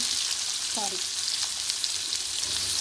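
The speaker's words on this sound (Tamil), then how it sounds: "இந்த மாதிரி சின்னதாக கட் பண்ணி இதே எண்ணெயில் நம்ம போட்டு நல்லா வதக்கிடலாம்" Small chopped brinjal pieces are sautéed in hot oil, with a constant, close, hissing sizzle throughout and a brief stir partway through.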